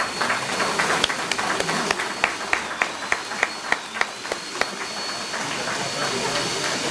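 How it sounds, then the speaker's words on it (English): A round of applause rises from an audience at a formal public meeting, with sharp claps falling into a steady, even beat over a hissy room background before fading. "Another round of applause."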